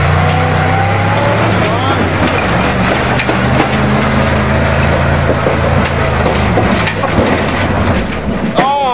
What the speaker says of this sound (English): You want to torque a dump truck, guys?